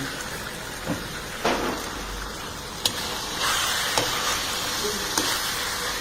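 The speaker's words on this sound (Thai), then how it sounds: "แล้วเราก็ผัดเลยผัดเรื่อยๆผัดผัด" Eggplant and garlic stir-fried in a hot pan: a steady, close sizzle runs throughout, broken by a few sharp spatula scrapes and knocks, with no talking.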